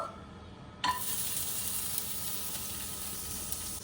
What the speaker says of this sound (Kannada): ಬಾಣಲಿ ಒಳಗಡೆ 1 ಸ್ಪೂನ್ ಅಷ್ಟು ಬಟರ್ ಹಾಕೊಬೇಕು